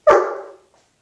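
A trained hypo alert dog gives one sharp, loud bark on command, close to the listener, which then trails off into a short fade.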